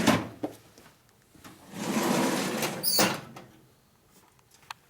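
A tool drawer in a motorcycle repair workshop slides open with a long rolling rumble, bracketed by a few sharp knocks and a bright metallic clink near the end, close by and moderately loud.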